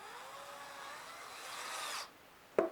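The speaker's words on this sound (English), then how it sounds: "Just going to screw the material together." A power drill drives exterior deck screws into wood for a platform bird feeder, a brief close whirring run that stops, followed by a sharp knock.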